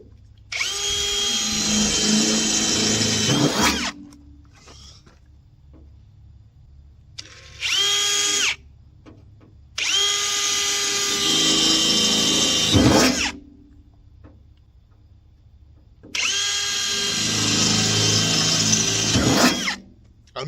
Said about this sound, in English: I'm using a this size drill bit